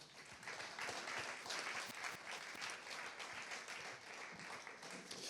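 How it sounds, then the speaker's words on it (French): An audience at a conference on the future of rail and training applauds a speaker being introduced, a dense and even wash of many hands clapping that carries on steadily throughout, heard from a distance and fairly faint. "On peut l'applaudir."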